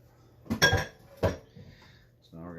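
Waffle batter stirred in a bowl, heard as two quick bursts of spoon clinking against the dish, close and clear, with a voice starting briefly at the end.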